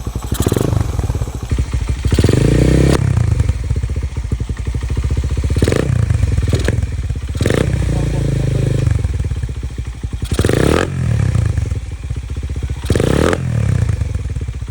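A motorcycle with a loud aftermarket Tsukigi exhaust revs repeatedly, each throttle blip rising sharply then dropping back to a rumbling idle, close by.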